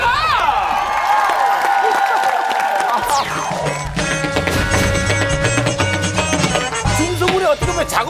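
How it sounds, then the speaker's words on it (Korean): A studio audience claps and cheers for a young performer on a television talent show, a broad, dense wash of applause with music and voices mixed in throughout. "그만큼 우리 유식군에게 다시 한 번 더 오늘의 박수가 필요합니다"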